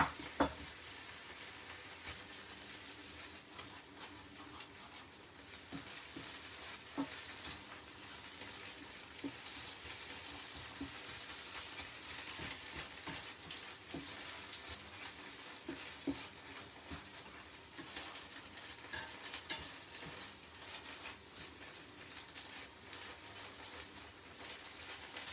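Lean minced beef fries in a pan with a faint, dense crackle and patter, steady with scattered sharper pops and spoon scrapes.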